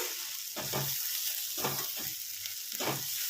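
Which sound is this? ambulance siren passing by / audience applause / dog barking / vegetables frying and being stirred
vegetables frying and being stirred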